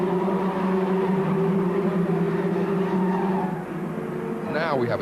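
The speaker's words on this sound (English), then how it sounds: "You have to really get into that gearbox, get the slipstream, and Favre is looking to go." Formula Ford race cars from 1986 battling closely on track, engines droning steadily at high revs with a gear change and rising whine near the end, under race commentary.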